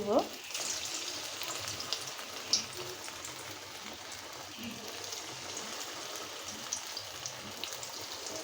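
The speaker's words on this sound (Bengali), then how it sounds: "আমি তেলটা গরম করে দিয়ে দিয়েছিলাম সেটা আমি ওখানে এক এক করে সিঙ্গারাগুলো দিয়ে" Steady crackling sizzle of samosas frying in hot oil, continuous and fairly close, with occasional louder pops and no voices.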